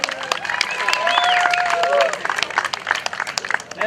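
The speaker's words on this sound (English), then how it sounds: "everyone give a round of applause to Liz Nicole" Crowd applause and cheering for contestant Liz Nicole at a car collector appreciation day event, clapping with whoops and shouts, swelling in the middle then thinning into scattered claps.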